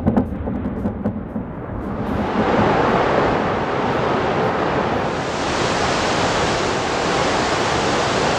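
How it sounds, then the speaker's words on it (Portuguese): Powerful rush of water and mud bursting from a demolished dam in Washington state, a loud continuous roaring wash of broadband noise that swells and holds steady without pause. "É um poderoso fluxo de água misturado com terra."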